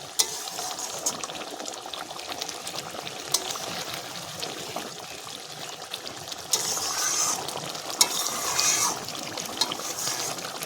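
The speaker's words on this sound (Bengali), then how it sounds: "গরম মশলার গুঁড়োটা দিয়ে আবারও একটু নাড়াচাড়া করে নেব।" A pangas and tengra fish curry with garam masala sizzles in a pan as it is stirred: continuous close hissing and bubbling with light spoon scrapes, growing a little louder and busier toward the end.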